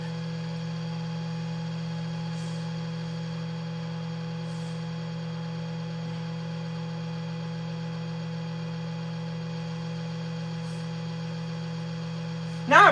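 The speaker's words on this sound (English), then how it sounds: "I don't like the noise of that fan." A 3D printer's cooling fan drones steadily while the bed re-levels, a constant low hum with faint higher whine, unbroken and close throughout.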